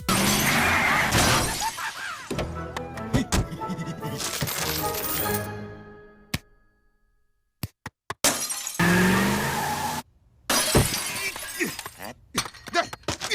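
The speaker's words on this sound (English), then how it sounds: "He crushed 5 cars, 1 stand, and a storefront" Bender, a cartoon robot, smashing through parked cars and shattering a storefront: repeated loud crunching impacts and bursts of breaking glass, separated by brief silent gaps, with debris clattering after.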